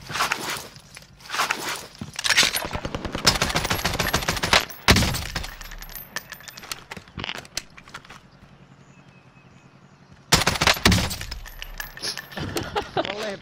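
Rapid bursts of gunfire from Call of Duty: Warzone crackle in clusters, loud and close, with a quieter lull in the middle before the shooting resumes.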